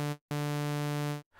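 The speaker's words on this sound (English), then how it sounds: "So a saw wave with just one voice sounds like this." A single-voice saw wave oscillator in the Vital synth plays one bright, buzzy sustained tone, briefly cut, then held steady for about a second, loud and alone.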